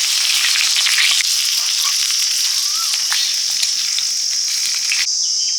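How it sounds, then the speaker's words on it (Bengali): Bori lentil dumplings fry in hot oil, giving a loud, continuous crackling sizzle that holds steady throughout with no voices over it. "ঝোল বড়ি দিয়ে করবো, বড়িগুলো ভেজে নিচ্ছি।"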